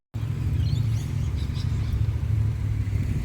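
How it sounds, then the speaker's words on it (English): Cars roll into a seaside town ahead of a beach festival, a steady close engine rumble that holds for a few seconds with no voices. "Quite a few cool cars already rolling into town for Beach Fest next weekend."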